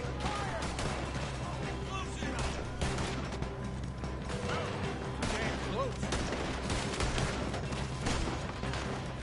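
Scattered gunshots in Red Dead Redemption 2, repeated cracks and rattling bursts at uneven intervals over a busy, moderately quiet background of game sounds and voices.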